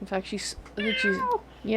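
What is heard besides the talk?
domestic cat meowing in an office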